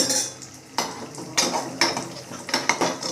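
Cashews and small coconut pieces fry in a pan while a metal spoon scrapes and clinks against it in irregular strokes, over a soft, quiet sizzle.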